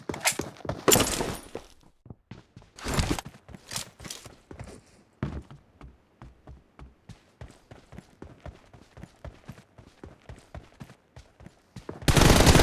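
Rapid gunfire bursts ring out in the mobile battle-royale game BGMI played on an iPhone 15, dense volleys early and late with a long stretch of steady single shots and clicks between, no talk over it.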